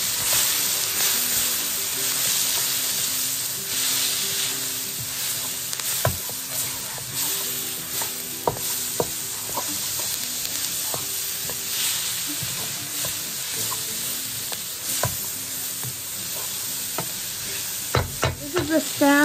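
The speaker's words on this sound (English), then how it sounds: "Okay, go ahead and stir that up." Garlic-seasoned food sizzling in a wok as it is stirred, a steady loud hiss broken by scraping strokes and a few sharp metallic taps, close by and without speech.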